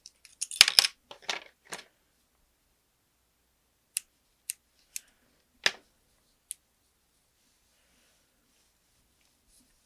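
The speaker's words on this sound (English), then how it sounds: "then I'll trim my yarn" Scissors trimming yarn while finishing a crocheted plant hanger: a cluster of rustling handling sounds, then a handful of sharp, isolated snips spaced over several seconds, close and quiet against near silence.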